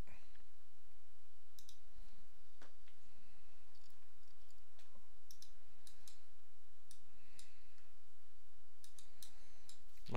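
Sharp, isolated clicks sound as cockpit switches are flipped in an F-14 in Microsoft Flight Simulator, scattered irregularly over a steady, quiet background hum.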